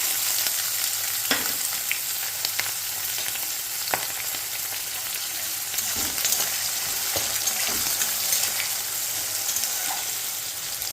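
Continuous loud sizzling of onion frying in a hot pan with moong dal for suji upma, with occasional scraping stirs and pops throughout.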